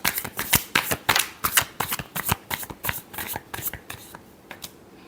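Tarot cards are shuffled up close by hand in a fast, rustling riffle of crisp flicks and taps that runs continuously for about five seconds before easing off.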